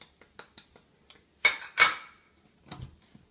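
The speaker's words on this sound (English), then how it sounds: "blend it all through with a spoon" Spoon scraping and clinking in a bowl while goat's cheese is stirred with nutritional yeast, salt and lemon juice, giving scattered light taps, two louder scrapes in the middle and a softer clatter near the end.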